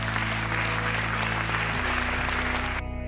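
Audience clapping for graduates, a dense continuous wash of applause over a loud low hum that steps down partway, with no talk, ending abruptly.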